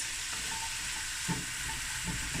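Garlic frying in a pan gives a steady, even sizzle throughout, with a couple of soft scraping knocks near the middle and end, and no voices.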